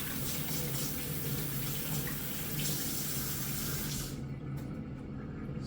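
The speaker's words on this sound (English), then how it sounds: "I'm gonna just wash my hands" Tap water running steadily into a kitchen sink while hands are washed, a loud continuous close rush that stops abruptly near the end, leaving faint drips and small splashes.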